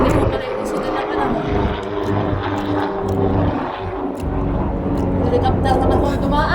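A helicopter passes overhead near Lipa, a steady low engine drone running throughout beneath continuous nearby talking.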